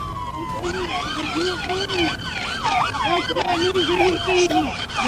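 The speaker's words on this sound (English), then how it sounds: "Trooper Walker proactively blocked the motorcycle with his patrol car's lights and siren blaring" A police patrol car siren wails loudly and close, cycling rapidly up and down in pitch over continuous traffic and engine noise.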